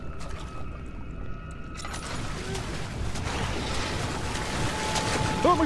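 Water pours and rushes steadily in the video game Amnesia, swelling louder over a few seconds after a brief mechanical hum.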